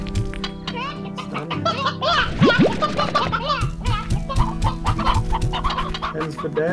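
Hens cluck repeatedly in the video game Slime Rancher over a looping game soundtrack, with a rising electronic swoop partway through and a steady rhythmic beat beneath.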